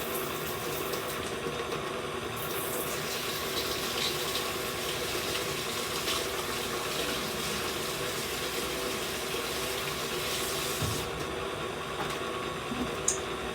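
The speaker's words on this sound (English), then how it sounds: "let me wash my hands off real quick" Tap water runs steadily into a kitchen sink while hands are washed, a continuous close rushing splash with no talking.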